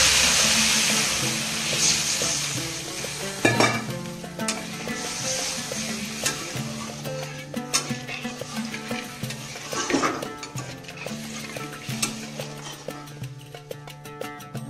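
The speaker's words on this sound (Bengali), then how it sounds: "এটার মধ্যে আমি এখন জল ঢেলে দিচ্ছি।" Masoor dal cooking in a pan sizzles and hisses steadily as water is poured in, the loud initial sizzle easing into bubbling with scattered clinks of a utensil.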